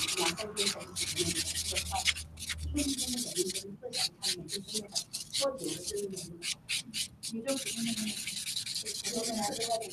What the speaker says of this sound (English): I'm going to take the 100 grit side of my buffer